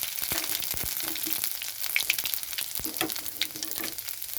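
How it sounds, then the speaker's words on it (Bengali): Garlic and nigella seeds fry in hot mustard oil, a steady close crackling sizzle with scattered sharp pops and a few utensil taps throughout. "আমার সর্ষের তেলটা গরম হয়ে গেছে তো আমি এখানে রসুন দিয়ে দিচ্ছি এখানে দিয়ে দিচ্ছি কালো জিরা"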